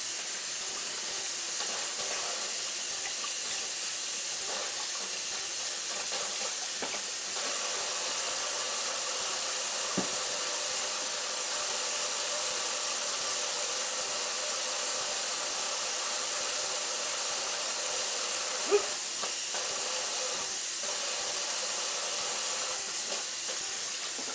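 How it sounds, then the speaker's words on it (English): Ground beef sizzles steadily in a pan, a constant close hiss that runs on without a break, broken only by a few faint clicks and taps. "Starting to sizzle, which is good,"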